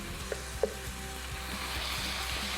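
Fresh ginger in a hot pan gives a steady, soft sizzle of frying, with a couple of light scraping clicks from a utensil near the start, close and unbroken, no talking.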